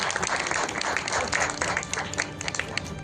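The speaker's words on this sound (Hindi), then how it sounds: "तो जितनी तालियां हैं यहाँ खाली करके जाएं।" An audience at a charity foundation's annual awards ceremony applauds in a dense, steady wash of clapping that holds at an even level throughout.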